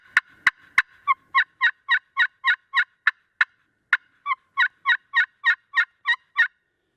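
A glass friction turkey call is worked by hand: three sharp, loud cuts open the run, then a few clipped notes lead into a long, evenly spaced string of rolling yelps, close and clear with no talk.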